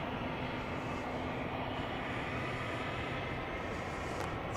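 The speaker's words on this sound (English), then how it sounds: "Time for another business jet to take off here at Dallas Love Field." A business jet taking off at Dallas Love Field on a frosty morning, a loud, steady broadband engine roar that holds constant throughout, with no voices.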